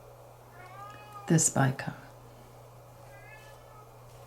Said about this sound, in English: it's one of my kitty cats kind of howling to get in